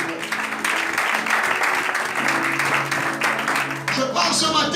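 A church congregation applauds and cheers during a Sunday morning sermon, steady crowd clapping filling the room for several seconds, with voices and music mixed underneath.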